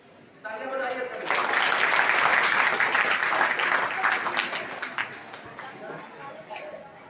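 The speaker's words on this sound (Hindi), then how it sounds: "तालियां बजाइए सभी।" Applause at a school prize ceremony at an inter college, a crowd clapping loudly and steadily for several seconds and then thinning out, with voices and chatter running under it.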